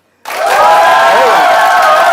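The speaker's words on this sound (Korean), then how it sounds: "박수 쳐보세요." After a brief silence, a seminar audience abruptly launches into loud group applause, dense and sustained, with tonal sounds from stage music or a sustained voice weaving through the clatter.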